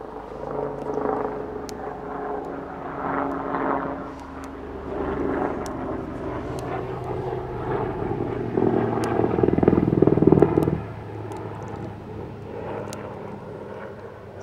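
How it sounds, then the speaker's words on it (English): Helicopter passing overhead outdoors, a steady broad rotor and engine drone that swells slightly toward the middle and fades, heard alone without talk. "Maybe I'll wait for the helicopter to go over."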